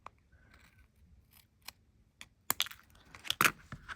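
Scissors cutting circles out of copper tape, a few sharp snips and crisp clicks, sparse at first and then a quick cluster of louder cuts near the end, close by with no voices.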